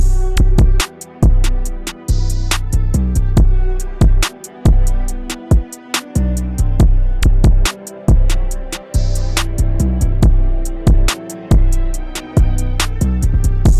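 A loud hip-hop beat pounds with deep booming 808 bass notes under sharp, evenly spaced percussion hits.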